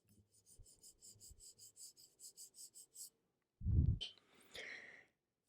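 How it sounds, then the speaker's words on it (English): A finger rubs across the surface of a Swaty three-line barber hone close to the microphone, making a quiet, rhythmic series of short rasping strokes. A louder thump and a clatter follow near the end. "I'm going to put this by the mic so you can hear my finger go across the surface."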